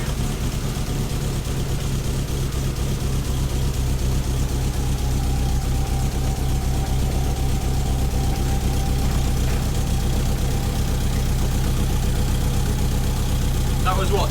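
A turbocharged car engine, left sitting for six months, runs at a steady idle throughout, a continuous low rumble with a faint knocking texture, with voices speaking over it.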